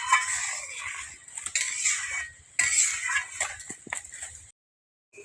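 A curry of fish, potato and lentil dumplings is stirred in a pot, the spoon scraping and clinking against metal in irregular bursts, before a lid clanks down and the sound cuts off, close and alone.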